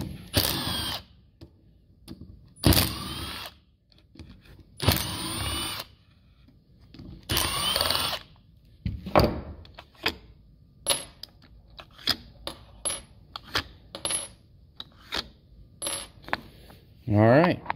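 Screws are backed out of an Ingersoll Rand Quiet Max air impact wrench with a power driver, several loud whirring bursts followed by a string of sharp metallic clicks and clinks as the parts and screws are handled.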